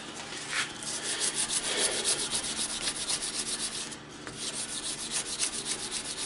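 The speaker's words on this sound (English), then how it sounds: "320 grit sandpaper with some mineral oil should work pretty good at getting that out" A knife surface being sanded by hand with 320 grit sandpaper and mineral oil, giving steady rhythmic back-and-forth scraping strokes, close and fairly quiet, with a short pause midway.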